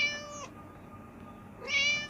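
A kitten meows twice, soft and high-pitched, close up, with a quiet pause between the two short cries and low background hiss.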